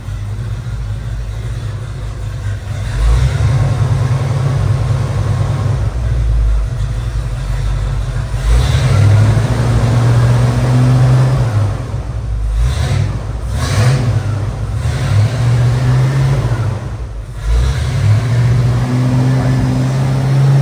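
A 1982 Ford Bronco XLT engine started cold, settling into a loud, steady low rumble with repeated revs swelling and falling back to idle, close up.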